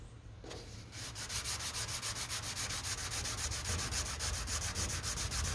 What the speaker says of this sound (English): You're gonna sand that till you see red on all the way around it